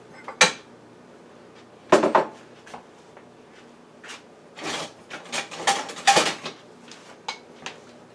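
Canned cherry pie filling, a one-pound can, being emptied into a container: scattered clinks and scrapes of metal against can or dish, with sharper knocks near the start and a cluster of rattling contacts later, close and fairly quiet.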